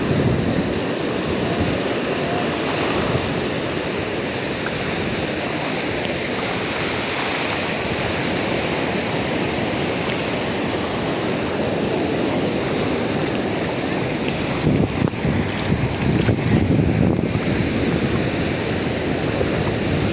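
Continuous roaring surf of sea waves breaking nearby at Suryalanka beach, Bapatla, a loud, steady wash of water with some swells rising and falling.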